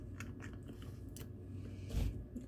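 Pecans being chewed up close, with a soft steady crunching under a constant low hum and one louder bite near the end.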